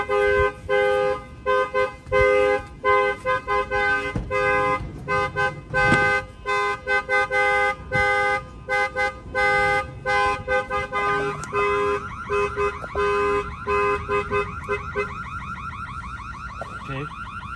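An aftermarket alarm on a 2020 Ford F-250 blares loudly and close, cycling through a sequence of repeating electronic siren patterns with rapid pulsing tones for the full duration.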